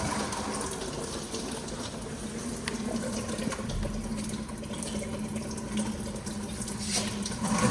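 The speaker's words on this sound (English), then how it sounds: "we should see all the water come out of the cooling system on the car" Water drains from the cooling system of a drift car, a steady, faint, continuous splashing trickle into a container with no talk.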